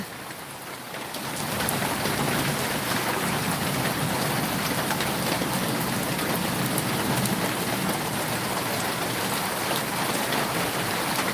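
Light drizzle falls in a rural countryside setting, a steady, even hiss of fine rain that swells slightly after the first second and then holds constant, with no voices.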